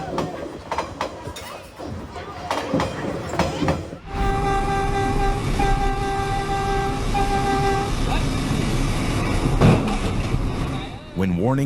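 A train rumbles past close by, its long horn blaring in steady sustained tones, with earlier clattering and mechanical noise before it arrives.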